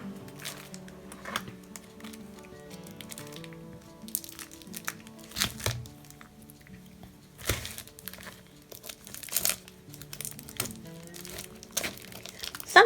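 Crinkly plastic packaging on new sketchbooks is handled and unwrapped close up, with irregular sharp crackles and crunches between quieter rustles, alone without talk.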